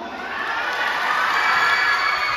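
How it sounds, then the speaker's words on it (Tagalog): Crowd at the Queen of Windward Hills 2024 coronation night pageant cheering and clapping, a dense, steady roar of applause and shouting that holds loud throughout. "Sabay-sabay po natin palakpakan at hiyawan."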